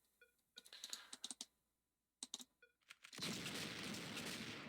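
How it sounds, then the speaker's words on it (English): Gunfire in the Survivalist video game: a scattering of sharp single shots in short bursts, then a sustained loud roar of noise near the end, with no talking. "Well, I got shot in the chest,"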